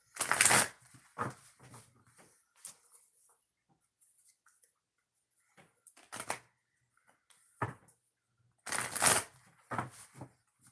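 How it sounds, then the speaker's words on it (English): Oracle deck being shuffled in short, crisp riffling bursts, close and clear, separated by stretches of near silence. "Got to shuffle twice and then we'll get started"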